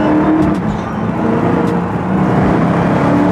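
A supercharged Dodge Charger Hellcat Widebody accelerates hard, heard from inside the car as a loud, sustained engine roar with a whining edge that holds steady throughout.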